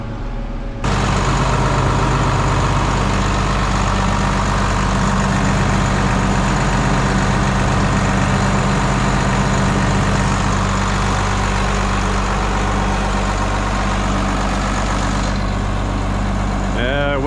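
Heavy engine running steadily at idle near the hay, with the field machinery's low, constant drone loud and unbroken throughout.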